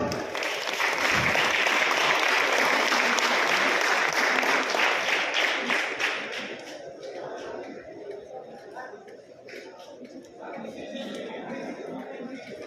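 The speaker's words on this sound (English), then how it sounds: "Please give a big round of applause." Audience applause at a felicitation ceremony, loud sustained clapping with some chatter that fades after about six seconds into quieter murmuring and scattered claps.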